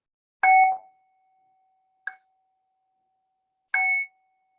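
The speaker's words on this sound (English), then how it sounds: "So I'm gonna ring the bell" A meditation bell rings three times, each strike clear with a sustained tone that fades slowly into silence, spaced evenly apart.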